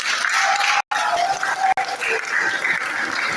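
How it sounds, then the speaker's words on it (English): Students at an academic event applaud a man with steady, full clapping and some crowd noise, broken by two very short dropouts. "A round of applause for the man."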